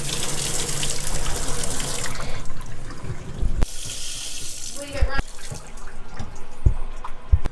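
Water rushes steadily from a copper household supply line just after a ball valve is opened, a broad continuous hiss and gush with brief clanks and knocks of plumbing partway through.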